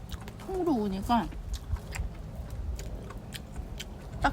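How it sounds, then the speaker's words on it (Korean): Someone chews a whole grilled mushroom at a riverside campsite, a few soft wet bites and crunches close by, with a voice briefly speaking near the start. "딱 씹는 순간 버섯 그 물이 확 나와요."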